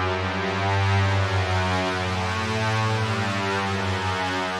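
Halo strings synth patch in FL Studio 20 with the filter cutoff set too high, a sustained, loud, buzzy chord with harsh, noisy highs that holds steadily for almost five seconds, with no voice over it.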